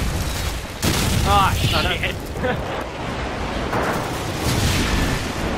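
A grenade explosion in a Call of Duty 4 multiplayer match: a sudden loud blast with a rumbling tail, followed by continuing battle noise while a player shouts in alarm over it.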